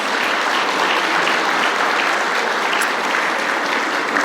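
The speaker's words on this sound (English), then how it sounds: "Please give yourselves a round of applause" Loud, dense applause from a chamber meeting crowd honoring Bright Star award recipients, a continuous wash of clapping close by that holds steady for the full four seconds.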